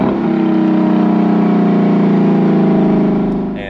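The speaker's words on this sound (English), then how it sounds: "It rev matches when it downshifts in almost every mode" Lexus LC 500 Convertible, a 2024 model, rev-matching on a downshift: a steady, loud, close engine drone that holds even for several seconds and tapers off slightly at the end, with no talk.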